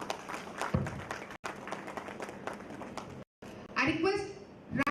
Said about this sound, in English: welcomes all the dignitaries onto the dais with a huge round of applause